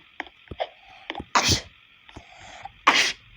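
Two sharp human sneezes, near and loud, separated by a pause of about a second and a half, with a few soft clicks, breaths and small vocal sounds around them.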